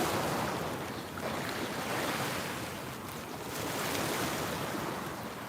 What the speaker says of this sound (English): I love to hear the water splashing against a seawall.